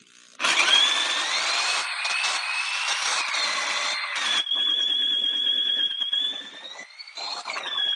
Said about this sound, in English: you got to have a pretty strong drill to accomplish this